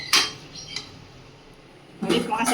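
A lid being set onto a pan of soybean curry: a sharp metallic clink at the start, a quiet stretch, then a louder clattering rattle of metal at the end.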